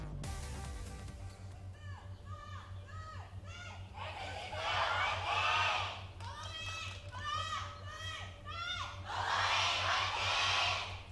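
A studio crowd at an Overwatch APEX esports match roars and chants in rising waves for RunAway and X6, loud and sustained, with a commentator talking over it.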